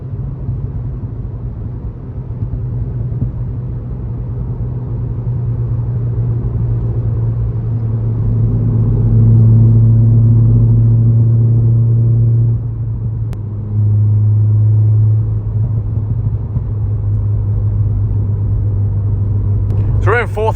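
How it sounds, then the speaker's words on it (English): Stage 3 Volkswagen Polo GTI engine revving while driving: a low, steady droning hum that swells as the revs build and holds a rising tone, heard from inside the cabin with someone talking over it. "You can just feed it on nicely and just rev it out."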